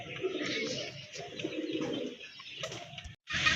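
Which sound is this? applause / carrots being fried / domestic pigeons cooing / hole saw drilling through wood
domestic pigeons cooing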